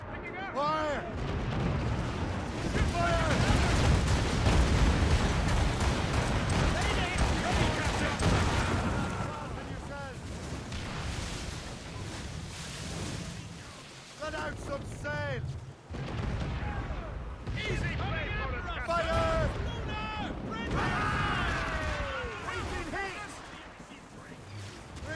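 Ship cannons firing in a naval battle in Assassin's Creed Rogue, a dense barrage of booming shots and crashes with shouting crew voices and music throughout, then further scattered blasts.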